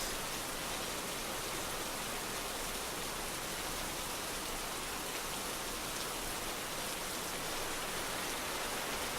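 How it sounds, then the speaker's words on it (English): Steady rain falls without a break, a dense, even hiss of drops on surfaces that stays at one level from start to finish, with no voices over it. "enjoy the sound of the rain"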